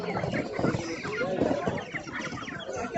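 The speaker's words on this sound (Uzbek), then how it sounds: "Tovuq, brollerchalar." Chickens and broiler birds cluck and chatter at a busy poultry market, dense overlapping clucks filling the scene at moderate loudness alongside background voices.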